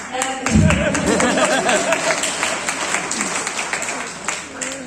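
An audience at a motivational talk breaks into dense, sustained applause that swells quickly after a low thump, with scattered voices mixed into the crowd noise.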